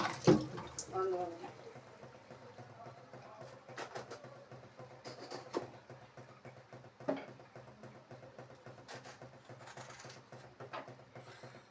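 Running tap water splashes steadily while peeled vegetables, bottle gourd for a lentil dish, are rinsed by hand in a kitchen, with scattered knocks and clatters throughout and someone talking over it.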